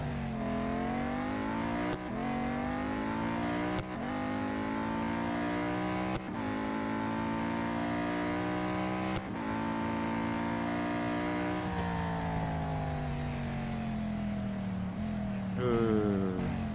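A Venom F5 hypercar in the racing game Real Racing 3 screams through continuous high revs, with sharp drops at each gear shift, loud and steady for the whole stretch.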